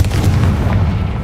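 A Confringo fire-blast spell in Hogwarts Legacy erupts as a deep, heavy boom with a sustained low rumble that fills the whole short moment, loud and close.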